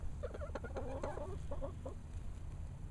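Barred Rock chickens clucking nearby in a short run of soft, murmuring clucks over steady low background noise.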